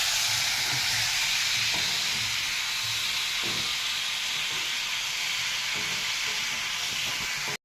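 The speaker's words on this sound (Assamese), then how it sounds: "এয়া ভালকৈ লৰাই এতিয়া ভাজিম" A steady, close sizzling hiss of tomato chutney with jaggery and salt frying in a pan, with faint scrapes and knocks of stirring scattered throughout and no talking.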